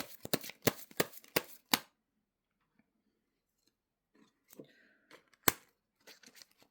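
Tarot cards shuffled by hand: a quick run of crisp, close snaps, then a quiet pause, then a few softer rustles and one sharp slap.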